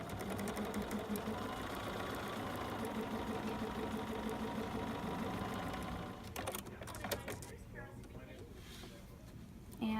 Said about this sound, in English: So now with my pins in place, I can safely feed this through the machine.